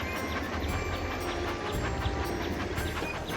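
A train runs on its tracks in a Cartoon Network video game, a continuous rolling rumble with regular rhythmic clicks throughout, played alone without speech.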